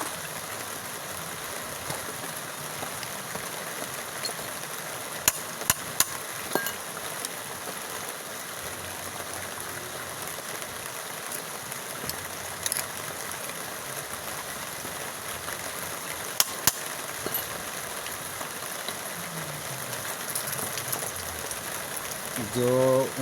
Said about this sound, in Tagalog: Umulan kasi ngayon dito sa amin.